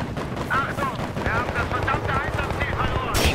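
Battlefield 3 multiplayer gunfire, continuous rattling shots and bursts over a dense battle din, with German-speaking players talking over it and a sharp loud burst at the end.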